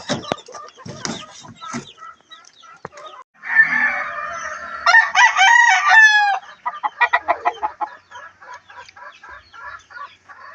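Hen and chicks cluck nearby, bursts of busy fowl calls with a few crow-like rooster notes mixed in, loud in the middle and then settling into a rhythmic run of short clucks.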